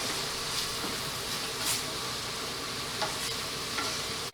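Onion, celery and sage stirred in a hot pan, a continuous close sizzle with soft scraping strokes, no voices.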